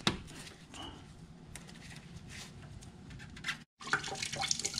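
Coolant drains from the radiator petcock of a 2008 Toyota Tundra into a 5-gallon bucket, a steady faint trickle and splash close by with a brief gap near the end.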